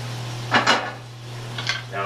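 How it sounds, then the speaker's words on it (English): Mushrooms and green peppers cook in a butter mixture in a pan, with a couple of soft metallic utensil clinks and scrapes over a steady low hum. "we've got green peppers sauteing in a butter mixture"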